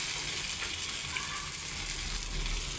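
Boiled noodles sizzle and fry in a pan with a fried egg, a steady dense crackle that holds evenly and close throughout with no talk.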